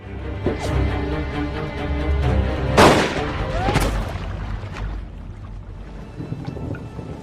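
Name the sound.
gunshots in a film scene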